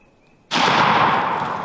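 A single sharp shotgun blast goes off during a spring youth-season turkey hunt in Kentucky, breaking a near-silent outdoor moment and leaving a short ringing decay.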